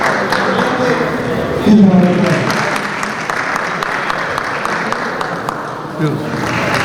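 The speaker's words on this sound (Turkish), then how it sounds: "Alkışlıyoruz. Teşekkür ederiz." Steady applause from a crowd at a ceremony honoring health workers in Sancaktepe, Istanbul, fills the whole stretch, dense and even, with a brief louder swell near the start.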